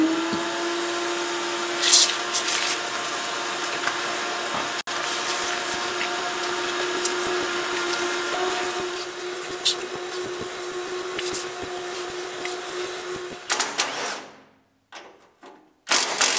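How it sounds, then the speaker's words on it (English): A vacuum cleaner drones steadily at close range as it sucks debris out of a salvaged junkyard portable welder, with a few scraping knocks before the motor winds down and cuts off near the end. "No, I'm going to get a vacuum. I want to suck all this out of here."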